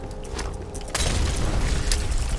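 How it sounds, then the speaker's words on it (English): Molotov cocktail bursting into flames in the video game Fallout 4: a sudden loud whoosh-boom about one second in, followed by a sustained roaring, crackling fire rumble, close and without talk. "I'm just gonna literally use all of our Molotovs to set these things on fire."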